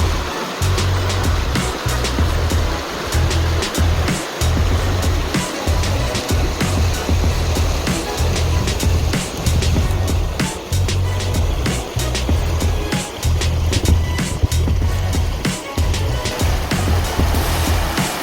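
Fast-flowing river water rushes loudly and continuously along a rock cliff in Uiseong, South Korea, a dense, churning roar with no voices.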